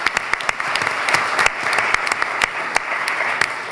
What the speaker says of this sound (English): Let's give them a round of applause for volunteering to do this.